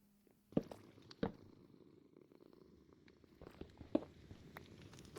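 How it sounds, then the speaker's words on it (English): A cat purring in an arctic survival setting, a soft, low continuous rumble close by, broken by a few sharp clicks and taps. "Hear it purring? That's it purring. It must be happy."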